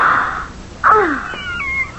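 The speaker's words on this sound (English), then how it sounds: "A kitten from Persia." White, fluffy Persian kitten meowing in an old radio mystery drama, a short cry followed by a longer drawn-out wavering meow, close and clear with no talk over it.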